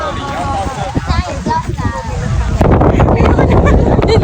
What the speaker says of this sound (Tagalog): Sobrang lakas din talaga ng hangin